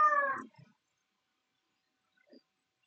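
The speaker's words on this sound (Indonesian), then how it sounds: "ini kucing kenapa?" A cat gives one loud, close meow that cuts off quickly, followed by a few soft rustles and a faint, brief second sound a couple of seconds later.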